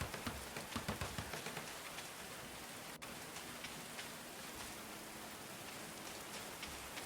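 Steady rain falls in the medieval colony-building game Going Medieval, a dense, even hiss of drops spreading across the whole clip with a few soft patters early on, heard alone without any voices.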